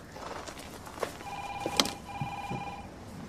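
A telephone rings in a police station setting, a double-burst electronic ring sounding twice at moderate volume against quiet room tone and faint footsteps, with no talking.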